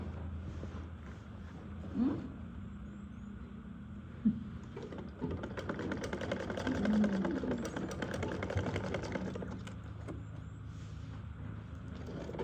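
A sewing machine stitches a folded trouser waistband, running in a steady, fairly quiet stretch of rapid stitching through the middle, with a few handling knocks before and after.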